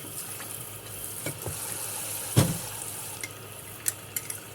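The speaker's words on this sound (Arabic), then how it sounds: "بحب اغسل بميه سخنه بصراحه. بتنضف المواعين وبتلمعها" Dishes being washed under running hot water, a steady faucet hiss with occasional clinks and knocks of crockery scattered throughout.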